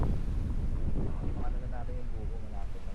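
Strong wind at a campsite on Marcis Point in Tanay, Rizal, buffeting the microphone as a loud continuous roar, with voices talking over it.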